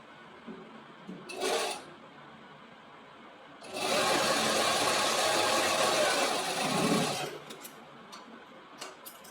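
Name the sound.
sewing machine stitching a seam on fabric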